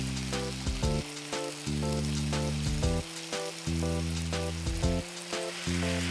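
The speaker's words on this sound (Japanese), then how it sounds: "コンディメントバルサミコビアンコを加えて炒め合わせていきます。" Chicken and local box eggplant stir-fried with white balsamic condiment give a steady, soft sizzle in the pan, heard faintly under louder background music.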